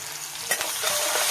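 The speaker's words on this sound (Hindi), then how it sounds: "देखिए मस्त प्याज फ्राई हो रहा है" Onions fry in oil in a pan for a desi chicken curry, a close, steady sizzle broken by a couple of scraping stirs.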